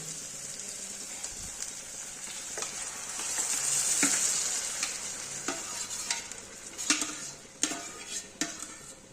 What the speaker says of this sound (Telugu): మనము నలిపి పెట్టుకున్న ఉల్లగడ్డను వేసుకుందాం